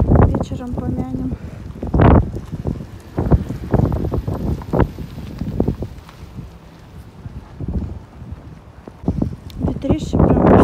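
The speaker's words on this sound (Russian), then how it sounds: "Ветрище прям вообще." Strong wind gusts buffet the microphone outdoors, rumbling in loud low surges through most of the stretch, with people talking over it at intervals.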